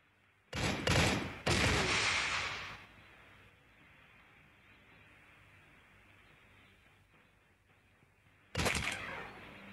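Gunfire in the mobile shooter game Fire Conflict comes as short loud bursts of rapid shots, two close together at the start and another near the end, with a quieter lull between.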